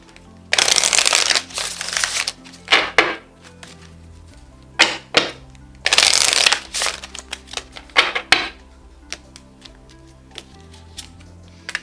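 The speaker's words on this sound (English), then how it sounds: "Let's take a couple of cards from this, or just one." A tarot deck is handled up close during a love reading, with long bursts of riffling and shuffling and crisp card snaps and taps, and no voice.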